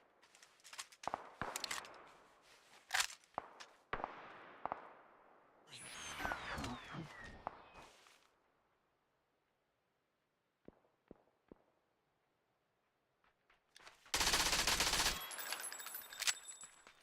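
Gunfire in the video game PUBG, with scattered sharp single shots, a dense burst of automatic fire, and a loud closing volley, separated by quiet gaps in a solo match.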